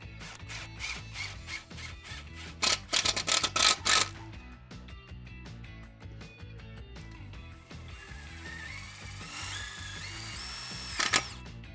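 A power drill drives screws into a top rail bracket during a CityPost railing install, giving short whirring bursts with brief stops and a louder high rev near the end.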